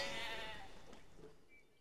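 Sheep bleating in the video game Life is Feudal: Forest Village, a single wavering bleat that fades out over a soft farm ambience.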